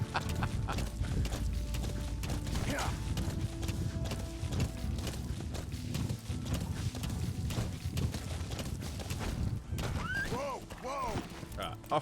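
A horse in the Metal Gear Solid V video game, galloping with continuous rapid hoofbeats and then whinnying loudly several times near the end, over a busy game soundscape.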